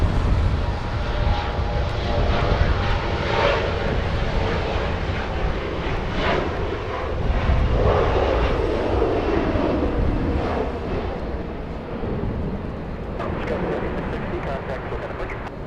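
SAS airliner on final approach into Los Angeles International Airport, fighting a crosswind; a steady, broad engine roar fills the whole stretch, with a voice talking over it.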